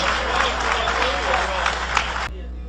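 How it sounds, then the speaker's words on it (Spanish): A church congregation applauds during an evangelical preaching service; busy crowd clapping over a low steady hum, cutting off abruptly near the end to leave only the hum. "Dale ese aplauso al Cordero de Dios."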